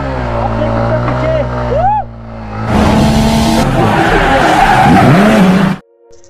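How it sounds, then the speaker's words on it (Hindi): A motorbike does a burnout on an offroad track: a revving engine gives way to a loud, close, harsh tire skid lasting about three seconds, then cuts off abruptly. "यहाँ पे बर्नआउट हो रहा है इस टाइम।"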